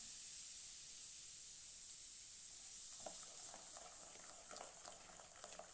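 Baking soda fizzes with vinegar for a pie batter: a soft fizzing hiss begins partway through, with scattered bubbling crackles over steady background noise, close by and fairly quiet.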